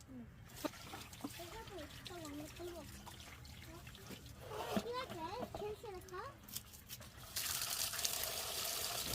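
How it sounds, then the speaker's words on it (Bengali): Potatoes being washed in water outdoors while cooking for a picnic, with light splashing and trickling under people talking almost continuously. "আরেক দিকে আলুগুলো ধুয়ে নেওয়া হচ্ছে আলুগুলো ভালোভাবে ধুয়ে নিয়ে চুলায় উঠিয়ে দেওয়া হবে"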